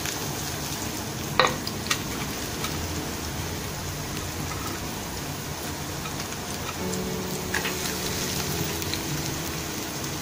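Onions frying in two tablespoons of oil in a pan for a chicken cheese lasagna filling, a steady close crackling sizzle throughout, with a few brief clinks and a low hum entering toward the end.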